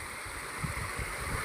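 River water flows in a steady, soft rushing wash with low gurgling, heard faintly at a distance outdoors with no voices over it.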